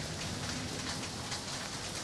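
Steady rain falls on a city street during an outdoor photo quest, a dense even hiss of drops on surfaces with no voices.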